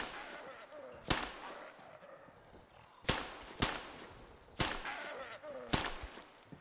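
Gunshots in the video game Metro Exodus (Enhanced Edition): sharp, loud single cracks, about six, spaced irregularly, some in quick pairs, with brief echoing tails over a quiet, low background.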